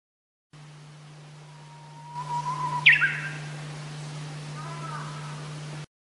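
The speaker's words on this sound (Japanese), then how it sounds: "鳥がさえずる。" A single bird chirps once in a quick bright trill over a steady low hum, faint and fairly close, with a softer twitter following afterward.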